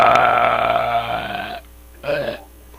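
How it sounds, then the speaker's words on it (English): A big, long belch rumbles loudly for about a second and a half, then a second shorter burp follows after a brief pause, with no talking. "a big belch, a big one"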